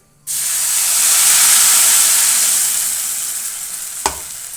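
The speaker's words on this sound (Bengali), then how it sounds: "মশলাটা একটু কষিয়ে নিই সুন্দর একটা সেন্ট বেরিয়েছে" A paste of poppy seed, cashew, melon seed and green chili dropped into hot oil for paneer posto bursts into a loud hissing sizzle that slowly eases, with one sharp clack of a spoon near the end.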